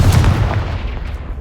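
A Confringo fire spell bursts in Hogwarts Legacy: one loud, booming explosive blast with a sharp onset that rumbles heavily in the low end and fades out over about a second.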